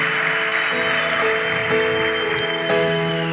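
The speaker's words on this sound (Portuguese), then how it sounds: "Se você crê, pode aplaudir bem forte o Senhor" Congregation at a Catholic church service applauding loudly and steadily for the Lord, a dense wash of clapping over sustained organ or keyboard music, with no talking.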